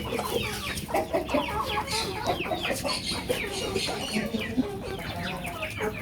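Aseel chickens cluck busily at close range, overlapping bursts of clucks and short calls with rustling in the background, with no talk.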